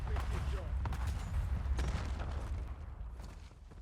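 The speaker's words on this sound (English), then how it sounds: "So I jump down and someone snipes at me." A sniper rifle shot rings out in the Warzone video game, a muffled boom with a rumbling tail that fades away over the following seconds.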